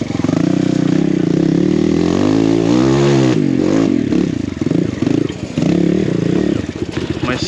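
A BBR KLX170RF dirt bike rides a winter enduro trail, its engine loud and close, revving up and down in rising and falling pitch with clattering and scraping as it works through the terrain.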